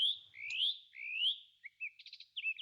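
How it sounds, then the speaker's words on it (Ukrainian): A skylark sings in flight: bright, rapid warbling trills and chirps in quick, continuous phrases, fairly close and clear with no other sounds. "А я жайворонок, одна з небагатьох пташок, яка співає в польоті."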